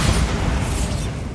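A Bombarda blasting spell goes off in Hogwarts Legacy, a brief loud, dense explosive burst with a rumbling low end that fades slightly at the end.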